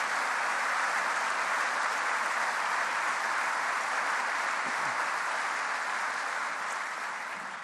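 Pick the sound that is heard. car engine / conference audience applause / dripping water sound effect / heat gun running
conference audience applause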